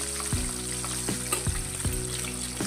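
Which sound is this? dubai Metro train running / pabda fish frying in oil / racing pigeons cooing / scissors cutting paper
pabda fish frying in oil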